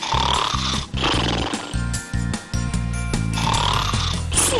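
Loud, rough snoring rasps and rumbles in slow repeated breaths with brief pauses between them, set over continuous background music.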